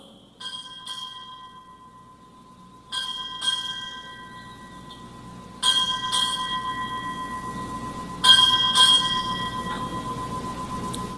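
A ship's bell rings eight strokes in four paired double strikes at a military change of command ceremony, each pair ringing out and decaying before the next, clear and resonant in an otherwise quiet setting.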